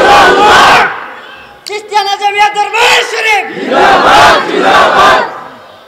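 A large crowd at an Islamic waz sermon gathering in Bengal roars a slogan in loud, surging bursts, with a single voice leading between the crowd's shouted responses.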